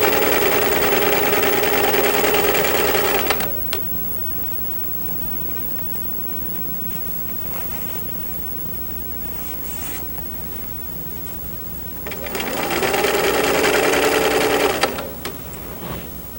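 A home sewing machine runs in two loud bursts, stitching in the ditch along a waistband seam, with a quieter stretch of handling between.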